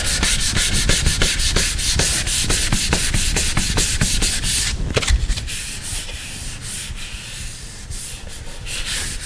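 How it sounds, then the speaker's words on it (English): An electric sander works steadily across a dented metal door, a loud, continuous rubbing grind with fast rhythmic strokes and a brief heavier scrape near the middle, with no talking. "if you want to use a sander, an electric sander, of course, you can do that as well"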